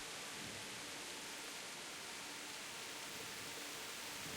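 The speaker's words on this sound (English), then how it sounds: "Boy, that's some pounding rain." Heavy pounding rain in the medieval game Kingdom Come Deliverance, a dense, unbroken hiss of downpour at constant loudness throughout, with no voices.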